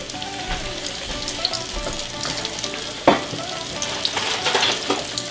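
Chicken fried deer steaks frying in hot grease make a busy, continuous sizzle and crackle, with a sharp splatter burst midway and steady popping after, with no voices.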